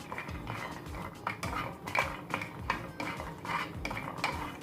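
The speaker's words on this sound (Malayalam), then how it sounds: "ഈ സെയിം പാനിലേക്ക് ഒരു 20 കാഷ്യൂനട്ട് ഇട്ടിട്ടൊന്ന് വറുത്തെടുക്കുന്നുണ്ട്" About twenty cashew nuts are roasted in a pan for a Kerala ariyunda rice-ball snack. A utensil stirs them with repeated metallic clinks and scrapes against the pan, moderately close and fairly quiet.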